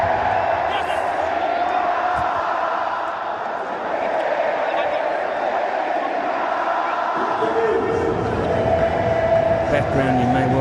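A cricket crowd at a stadium celebrating a Champions Trophy win, a broad distant roar of many voices singing and chanting, heard beneath someone talking nearby.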